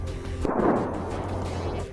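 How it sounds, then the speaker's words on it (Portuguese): In a war zone, a single muffled boom from an explosion or gunfire rolls out over a low, steady background hum, sounding somewhat distant. "Em outros pontos, várias explosões."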